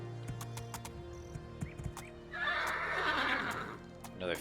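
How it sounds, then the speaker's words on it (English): A horse in the video game Two Worlds, called by whistle, whinnies loudly in a single drawn-out neigh after a few clip-clop hoof sounds, with a brief voice nearby. "I can whistle and call my horse"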